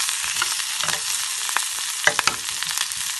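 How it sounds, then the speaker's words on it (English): Cumin seeds, cayenne and salt fry in hot oil as a spoon stirs them steadily, with a constant close sizzle and occasional sharp scraping clicks. No one speaks. "And I'm just going to continue stirring this for the next few minutes."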